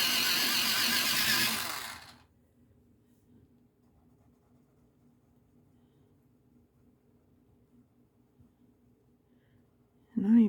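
Colored pencil, a Kelly green, being sharpened, a brief rough grinding whir for about two seconds, then near silence with faint background hum and a short rustle at the end.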